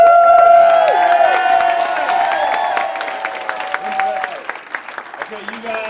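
A large crowd at a martial arts belt test cheers and applauds loudly, with whoops and a dense wash of clapping that thins toward the end, while voices shout and talk over it.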